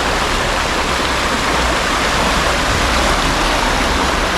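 A river rushes steadily past a riverside campsite, a loud, dense, unbroken roar of flowing water filling the whole scene without pause.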